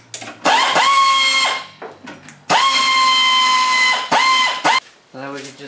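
A power tool, most likely an impact or cordless driver, removing two bolts from the master cylinder of a 1995 Toyota Tercel: two long whirring bursts, each followed by short stuttering blips, loud and close.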